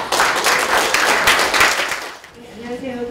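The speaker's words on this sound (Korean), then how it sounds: "오늘 또 이 PPT의 여왕으로 데뷔하는 김 박사님께 박수로 청해드립니다." Seminar audience clapping to welcome a presenter at an environmental forum, a brief burst of applause over about two seconds that fades quickly into quieter room sound.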